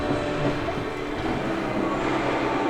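London's Mail Rail underground railway train runs through a tunnel beneath the Mount Pleasant sorting office, heading east. It gives a steady, close rumble with a continuous rattle and clatter of wheels and no talk.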